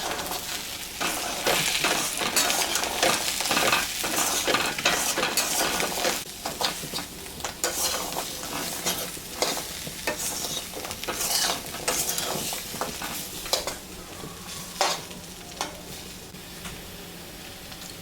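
A soybean and egg curry masala with turmeric powder sizzles steadily in a pan while a spoon stirs and scrapes it, with frequent clicks and knocks against the metal over a continuous close frying hiss.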